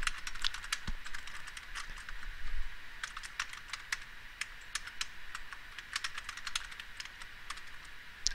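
Rapid, irregular clicking of computer keyboard keys as Java code is typed, close and clear with short pauses between bursts, no talking over it.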